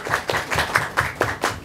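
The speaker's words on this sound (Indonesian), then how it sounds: "tepuk tangan buat tamu saya terhormat." A studio audience claps for a guest in a brisk, rhythmic pattern, about seven evenly spaced loud claps in quick succession, close and clear.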